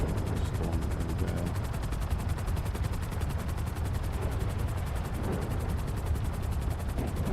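A helicopter flies through a stormy sky in a video game, its steady rotor roar and rumble holding loud and continuous, with bursts of gunfire-like crackle mixed in.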